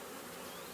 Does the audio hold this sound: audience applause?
no